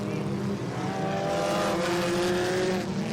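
Midget race cars roar around the oval at Le RPM Speedway, their engines droning loud and steady as the pack passes. A commentator speaks over the noise.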